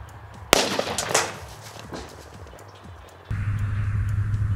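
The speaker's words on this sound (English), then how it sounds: "you can see the blasting cap annihilate the block and sent pieces flying everywhere with a loud report" A blasting cap detonates inside a block outdoors with one sudden, loud, sharp report, then a decaying rush of scattering debris before a steady rumbling noise takes over.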